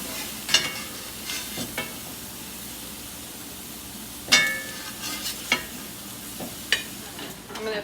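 Mushrooms sizzling in a hot pan, a soft steady fry under sharp clinks and scrapes of a utensil stirring and lifting them out, with a louder clatter midway.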